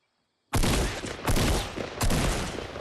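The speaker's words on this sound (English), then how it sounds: "3 shots, still have 5 left to try to take some down" Three loud, heavy gunshot blasts from a Fortnite weapon ring out after half a second of silence, each with a long booming decay, spaced evenly about three-quarters of a second apart.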